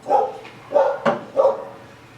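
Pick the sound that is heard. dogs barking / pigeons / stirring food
dogs barking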